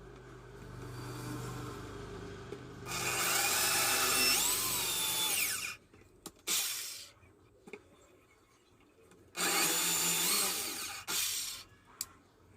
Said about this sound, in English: measure your screw and choose appropriate drill bit and start drilling